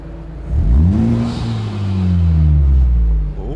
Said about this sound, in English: So this is the Perrin catback.